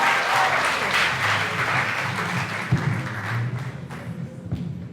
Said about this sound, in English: Ladies and gentlemen, a round of applause once again for Mr.